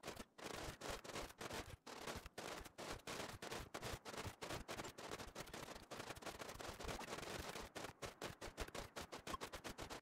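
Sustained submachine gun fire rattles nonstop in RimWorld, a dense stream of sharp, overlapping shots from several guns with only brief gaps, loud and without talk.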